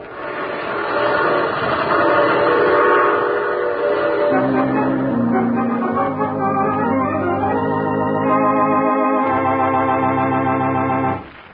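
A loud train rumbles along with a sustained, wavering horn blast that changes pitch midway, ending abruptly; no voices.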